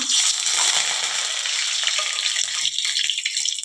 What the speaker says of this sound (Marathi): तेल छान कडकडीत गरम झालं की गॅस कमी करायचा आणि त्यात मोहरी घालायची